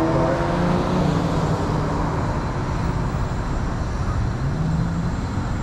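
Road traffic passing a cyclist on a suburban street, a steady broadband roar of car engines and tyres close by, continuous and fairly loud with no talk.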